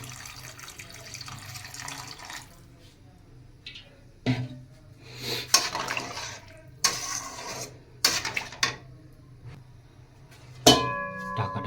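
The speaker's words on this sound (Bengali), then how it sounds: "এবার জল ঢেলে ঢাকা দিয়ে দেবো" Water is poured into a pot of tilapia fish curry in several separate bursts of splashing and running liquid, with quieter gaps between pours and a sharp clink near the end.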